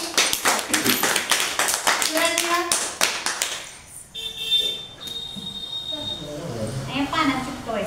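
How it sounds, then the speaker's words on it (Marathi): Schoolchildren in a classroom clap together in a burst of rapid, close group applause during a paper collage craft lesson, fading after a few seconds into quieter speech and background chatter. "टाळ्या वाजवा सगळ्यांनी"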